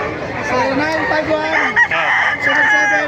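Loud, close rooster crowing with long drawn-out calls at a chicken breeder's in Bocaue, Bulacan, joined by other chickens clucking; voices may be faintly mixed in.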